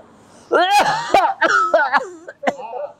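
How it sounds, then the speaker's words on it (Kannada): A man coughs and clears his throat several times in short, rough, voiced bursts, close and fairly loud, acting as a character who complains of weakness and fatigue in a comedy sketch. "ಕೆಮ್ಮು."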